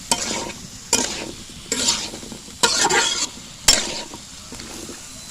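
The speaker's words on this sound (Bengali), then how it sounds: "দেখেন কত সুন্দর করে কষানো হচ্ছে।" Dried shrimp with pointed gourd and new potatoes sauté in a pot for a curry, a soft sizzle broken by sharp stirring scrapes that land roughly once a second, close and clear.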